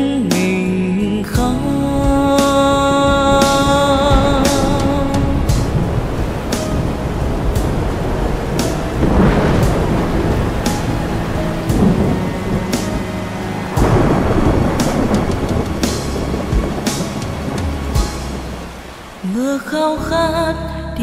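Steady rain and rolling thunder rumble beneath a sung Vietnamese ballad, a dense wash of storm noise that continues throughout.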